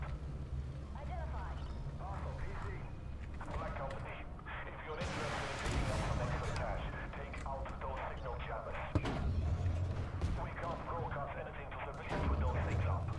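Tank and artillery fire in the armored combat game Armored Warfare, with booming impacts and gunfire rumbling repeatedly throughout under steady engine noise and someone talking.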